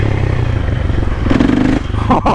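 A supermoto motorcycle engine rumbles and revs during a city ride on a Friday night, loud and close, with a brief rise in engine note and some clattering toward the end.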